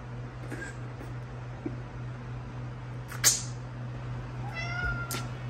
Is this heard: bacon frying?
no